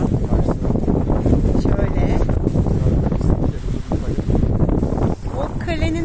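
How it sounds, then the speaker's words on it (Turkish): Strong wind buffets the microphone in a continuous roar at the seaside at Altınkum, Sarıyer, with a voice faintly audible underneath. "Biraz bugün rüzgarlı bir gün"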